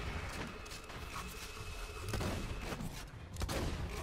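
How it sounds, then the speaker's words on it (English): Shotgun blasts in the video game Borderlands during the Terramorphous fight, a loud, dense wash of gunfire with sharper heavy reports near two and three and a half seconds over continuous battle noise. "A shotgun, you know, pretty good damage, at least for the current level I'm at"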